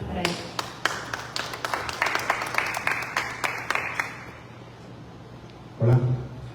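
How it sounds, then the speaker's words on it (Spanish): Audience applause at a press conference fills the room with a steady patter of many hands, close and moderately loud, fading out before a short burst of voice or handling noise near the end. "Fuertes palmas para él."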